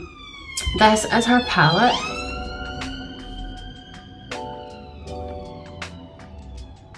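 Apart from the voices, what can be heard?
siren passing outside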